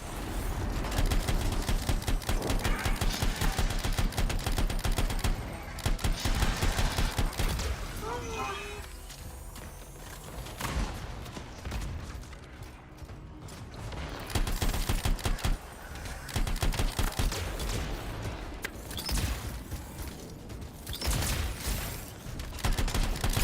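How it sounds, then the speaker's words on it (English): Turret gunfire in the video game Anthem, repeated loud bursts of rapid automatic fire separated by quieter stretches, close and heavy, with speech audible between volleys. "Got turrets of some sort. Those will ruin your day."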